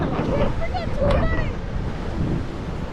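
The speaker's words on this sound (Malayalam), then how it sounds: "നമുക്ക് കടലൊന്ന് കാണാം" Sea waves wash continuously at Kozhikode beach, a loud, steady broadband surf with wind buffeting the microphone throughout and faint voices in the background.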